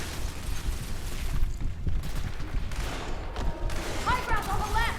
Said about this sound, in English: I want to be in a gunfight.